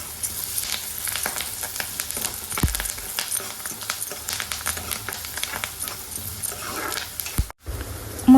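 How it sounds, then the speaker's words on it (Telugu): Curry leaves fry in hot oil for vada curry, giving a steady crackling sizzle with frequent small pops, close and continuous throughout. "బాగా ఫ్రై అయ్యాక 1 రెబ్బ కరివేపాకుని యాడ్ చేసుకొని బాగా ఫ్రై చేసుకోవాలి"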